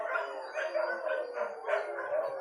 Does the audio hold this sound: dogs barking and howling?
yes